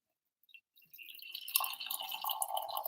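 Coffee is poured into a cup, quiet at first and then building into a steady, close liquid trickle that runs for a couple of seconds, with no talking.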